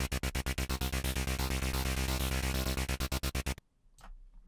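Serum sample-and-hold synth lead, loud rapid rhythmic pulses whose gate opens up as a macro is raised, then stops abruptly, leaving faint residual noise.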